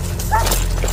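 A police dog gives a short yelping bark over low rumbling background noise.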